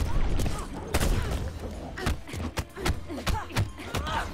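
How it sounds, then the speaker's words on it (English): Grenade explosions in the fighting game Mortal Kombat X during a tournament match: several sharp, thudding blasts in quick irregular succession, mixed with other game impacts and faint commentary voices underneath. "Catches him with grenades"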